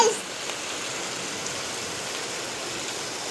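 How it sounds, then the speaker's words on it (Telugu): Heavy rain pours down in a steady, dense hiss that stays constant throughout, with no voices over it. "చాలా వర్షం పడుతుంది."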